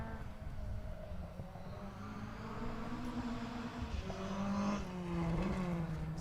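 A well-prepared rally car with a close-ratio gearbox on an Otago Rally gravel stage, its engine note rising and building as it approaches, steady and moderately loud with no talk.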